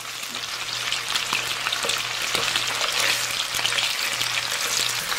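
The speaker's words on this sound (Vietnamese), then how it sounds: "Mình cứ chiên sơ như vậy cho đến hết lượng cá nha" Mackerel scad pieces fry in hot fat in a pan, giving a steady, dense, close sizzle with faint crackles and occasional light taps, continuous throughout with no voices.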